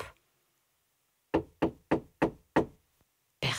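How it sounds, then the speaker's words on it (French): Five firm knocks on a door in a children's story, evenly spaced and close, followed by a tiny tap and a brief onset of another sound. "Il frappe."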